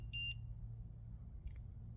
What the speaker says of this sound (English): press the 9-0 key right here for 3 seconds until it beeps twice